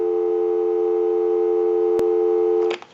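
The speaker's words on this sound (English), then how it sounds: "Give you some dial tone." Steady telephone dial tone from a Western Electric phone, a continuous even hum held loud and alone for nearly three seconds before a brief click and clatter cuts it off.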